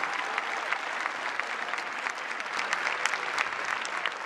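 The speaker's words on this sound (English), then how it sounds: "Please a warm round of applause for our DDEEA staff." Dense, sustained applause from an audience at a 2019 graduation recognition ceremony, many hands clapping evenly at steady volume throughout, with no voices standing out.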